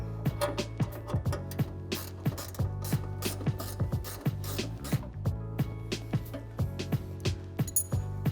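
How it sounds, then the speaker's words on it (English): A ratchet wrench loosens a 10mm headlight bracket bolt on a 2007-2014 Chevy Tahoe, with rapid, steady metallic clicking in repeated strokes, close and clear, no talk. "It's secured by a 10mm bolt. It's going to get your wrench and loosen it up."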